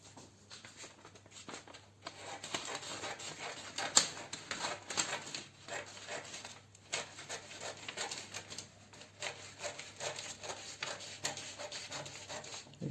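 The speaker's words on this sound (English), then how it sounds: "So I can just place it on my fabric and cut." Scissors snipping through fabric while cutting out a bustier pattern, a run of soft irregular crunching cuts with light handling rustle, close and fairly quiet.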